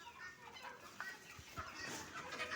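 Faint clucking of chickens shut inside a farm shed, soft scattered calls over quiet background noise.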